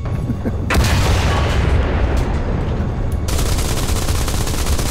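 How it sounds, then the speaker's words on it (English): A 20mm cannon firing in the War Thunder video game, heavy continuous booming gunfire with sharp reports, loud and sustained throughout. "20mm cannon."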